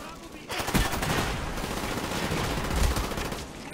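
Rapid gunfire in an online team-based shooter video game, a dense burst of shots running for a few seconds at steady loudness with game ambience underneath.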